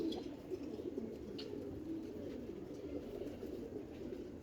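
Three female pigeons in a loft coo in a low, continuous murmur, a dense overlapping flock sound with no clear breaks, moderately loud and steady throughout.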